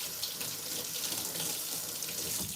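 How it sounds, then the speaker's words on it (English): Hydrogen water is poured into a smoothie in a blender container, making a continuous rushing, splashing stream. The sound is steady and moderately close, with no talking. "And we're gonna put some hydrogen water in here."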